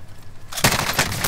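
Rapid bursts of Mac-10 submachine gun fire in a first-person shooter game, loud and close, starting abruptly after a quiet lead-in and rattling continuously to the end.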